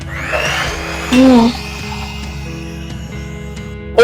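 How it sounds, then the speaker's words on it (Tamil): Electric mixer beating red velvet cake batter, a steady whirring drone with a brief louder surge, a voice speaking over it. "இப்போ இதை மறுபடியும் இது எல்லாத்தையும் மிக்ஸ் பண்ணிட்டு பீட் பண்ணிக்கலாம்"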